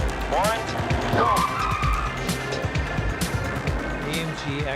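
Tuned AMG cars launch from a race start, with engines revving hard and tires squealing and skidding in repeated loud bursts while a voice talks over them.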